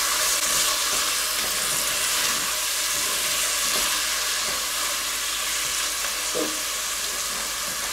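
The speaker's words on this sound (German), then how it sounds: "Jetzt nochmal schön anbraten." A rolled beef roast sears in a hot pan with vegetables and liquid, giving a steady loud close sizzle and frying hiss throughout, with occasional faint stirring clinks.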